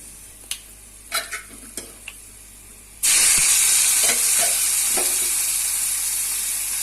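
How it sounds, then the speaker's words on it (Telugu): A few light clinks and taps sound, then boiled cluster bean pieces drop into a hot frying pan with a sudden loud sizzle. The sizzle continues as a steady, close hiss with faint scraping. "మనం బాయిల్ ఉడకబెట్టి ఉంచుకున్న గోరుచిక్కుడు ముక్కల్ని దీంట్లో వేసుకోవాలండి"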